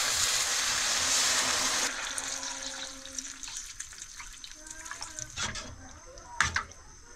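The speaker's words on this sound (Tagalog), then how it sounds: "Lagyan natin ng tubig." Water pours into a pot of sautéed food, a loud splashing rush for about two seconds, then quieter bubbling and clinks of cookware.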